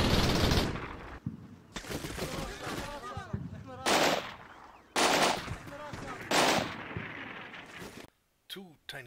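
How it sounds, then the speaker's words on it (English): Gunfire from a tank and an infantry squad in the wargame Combat Mission Shock Force 2: loud bursts of machine-gun fire and heavier cannon shots in irregular clusters, with a few sharp separate reports near the end. "A toy tank engages an infantry squad that has caught up with the scouts."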